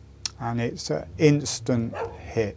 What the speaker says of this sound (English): Now, you may hear a dog a bit in the background.